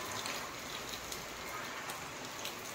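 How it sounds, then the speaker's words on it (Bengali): Steady rain falls outside, a dense even hiss of drops with occasional brighter patters, continuous and fairly loud with no voices. "বাইরে হচ্ছে বৃষ্টি"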